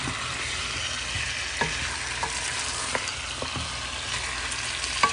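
Chicken pieces frying in oil in a pot for Jamaican brown stew, a steady soft sizzle running throughout with a few light clicks and stirring knocks scattered across it, no talking.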